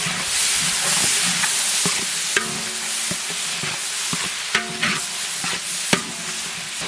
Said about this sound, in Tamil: தக்காளி சேர்த்து வச்சு நல்லா கலந்து விட்டுக்கலாம்